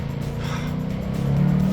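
A 2018 Ford Mustang RTR Spec 3 with over 600 horsepower, heard from close by as a steady engine rumble that swells slightly as the car is thrown into a corner, with no talking.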